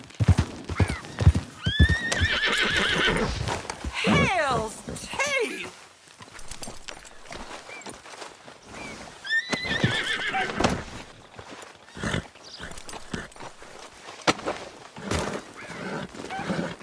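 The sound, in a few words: horse neighing in video game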